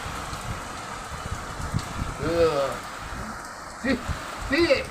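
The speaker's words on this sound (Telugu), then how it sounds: "వర్షం ఏం వర్షం పడుతుందమ్మా బాగా పడుతుంది" Steady hiss of heavy rain fills the clip, with people talking intermittently over it.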